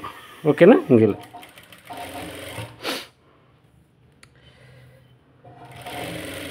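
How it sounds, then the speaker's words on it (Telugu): A sewing machine stitching a blouse from slippery fabric runs in a short, fast rattling burst near the start, then falls quiet while someone talks. "ఇలా మనం చూసుకొని చక్కగా సెంటర్కి కుట్టు వేసేసుకుందాం"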